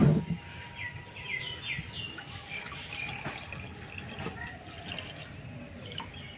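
Coconut water pours and trickles out of a cut green coconut, a steady close liquid flow with light splashing and dripping, with faint bird chirps outdoors in the background.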